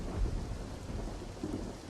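A thunderstorm rolls on with steady rain. A low continuous rumble of thunder sits under a dense wash of rain, heard alone throughout.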